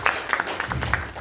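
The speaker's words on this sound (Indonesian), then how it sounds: "Boleh kasih tepuk tangan bagi Tuhan" A church congregation at a Sunday worship service briefly claps, a short burst of scattered, moderately loud handclaps.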